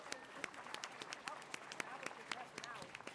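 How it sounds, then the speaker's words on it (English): A small audience applauds a panel of apprentices, distinct individual claps in a loose, uneven rhythm, faint and distant, with some murmured voices under it. "Let's just give them one more round of applause."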